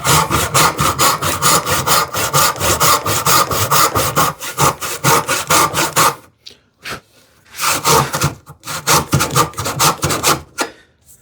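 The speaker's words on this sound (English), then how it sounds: "Once I have that established, I can just use this depth and this depth to guide my saw." A hand saw cuts a wide wooden tenon in quick, rhythmic back-and-forth rasping strokes, close and loud, pausing briefly with a few scattered strokes before the steady sawing resumes.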